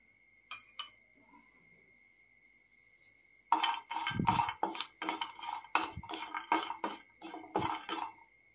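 Dry date pieces are roasted in a pan. After a quiet start with a couple of light taps, a spatula scrapes and clinks against the metal in a quick, rhythmic stirring, close by, over a faint steady high whine.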